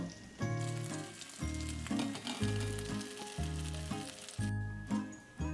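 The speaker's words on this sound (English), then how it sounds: "we're just gonna let it cook on either side for 3 to 4 minutes until it's nice and browned" Bread pieces fry in a pan, browning on each side for French onion soup, a continuous crackling sizzle heard beneath loud, rhythmic background music.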